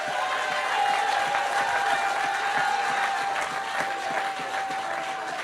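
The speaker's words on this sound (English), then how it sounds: "let's say a thunderous round of applause for our Honorable Prime Minister, Dr. Roosevelt Skerrit, for speaking to many" A crowd at a town hall meeting in Roseau South applauds after a speech, with steady, sustained clapping and a faint whistle or cheer running through it, filling the room at an even level from start to finish.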